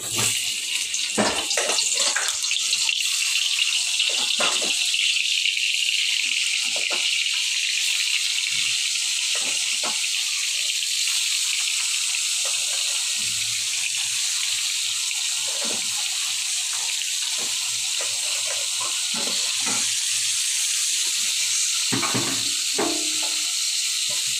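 Teasel gourd frying in hot oil in a home kitchen, a steady bright sizzle running continuously with scattered pops and clinks of utensils, close and even throughout.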